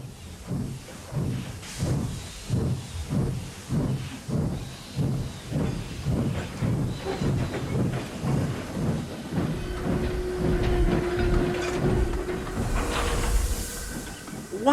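A steam train chuffs in a steady rhythmic series of exhaust beats, then steam hisses in a loud sustained release with a faint whistle-like tone, close and mechanical, no talk.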